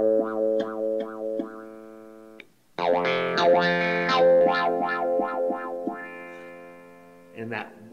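A clavinet patch on a Casio Privia Pro PX-5S stage piano plays bright, twangy notes. Repeated wah-like sweeps come from a sustain pedal being pressed and released, with a short gap partway through.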